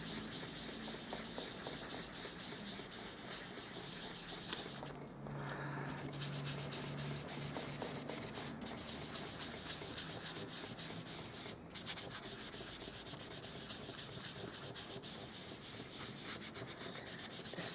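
A sponge loaded with intense blue ink is worked steadily over card stock, giving a faint, continuous scratchy rubbing with a soft hiss, close up and without speech.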